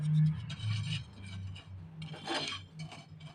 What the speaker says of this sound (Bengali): হাফ টেবিলস্পুন জোয়ান আট নটা লবঙ্গ এটাকে ভালোভাবে কিন্তু শুকনো তাওয়ায় গরম করে নেব